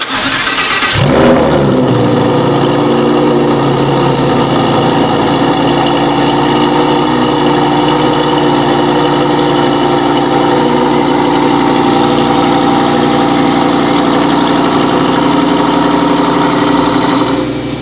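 A new 2022 Lamborghini Huracán STO's naturally aspirated V10 engine cranks and roars to life, then settles into a loud, steady, rumbling idle that continues unbroken.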